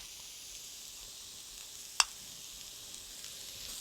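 Holy basil goes into spicy tofu frying in a pan: a soft, steady sizzle throughout, broken once by a single sharp tap midway.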